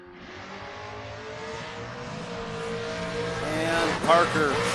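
Drag racing cars, including a fifth-generation Camaro, roar down the strip with a loud sustained engine howl that builds in pitch, and an announcer talks over the noise.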